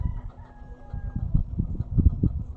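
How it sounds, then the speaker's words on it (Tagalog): Chickens clucking close by in an irregular run of short calls, with a faint rooster crow drawn out in the background. "Ang ingay ng manok anak"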